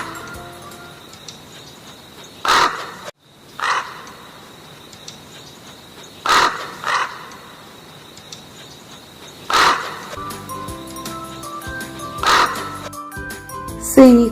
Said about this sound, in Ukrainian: Послухаймо гаву.